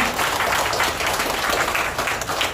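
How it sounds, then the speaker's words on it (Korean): Audience applause at a lecture on subcontracted shipyard workers' strikes, a steady dense clapping that fills the room, fairly loud and continuous with no voices over it. "다시 한 번 더 그동안 욕봤다고 힘차게 박수 부탁드립니다"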